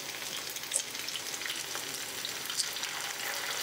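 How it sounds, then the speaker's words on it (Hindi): Snacks frying in hot oil in a pan, turned one by one to cook the other side: a steady, dense close sizzle throughout, with a couple of brief clinks or pops near the start and later on. "एक एक करके सभी नाश्ते को हम पलट के दूसरी ओर भी फ्राई करेंगे"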